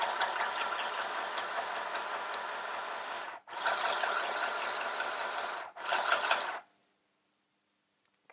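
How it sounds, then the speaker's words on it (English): A mini sewing machine stitches in three loud, close, rapid mechanical runs. There are brief pauses between the runs, and then it stops and leaves quiet. "so now I'm going to sew"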